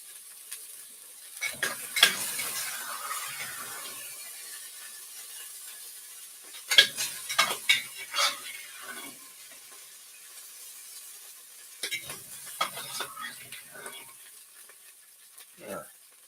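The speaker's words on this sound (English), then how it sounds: "There, got the meat browned up nice." Beef browning in a pan for beef barley soup: faint sizzling under bursts of spatula scraping and clattering against the pan, separated by quieter stretches.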